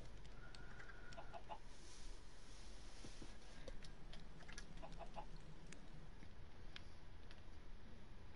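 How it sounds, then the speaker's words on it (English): Chickens in a survival video game clucking repeatedly in short, faint bursts over a steady background hum, spread across several seconds. "Wait a minute, did I kill a new chicken?"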